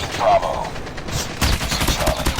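Gunfire in the Call of Duty Mobile video game, a rapid dense burst of shots close and loud, with an excited voice over it.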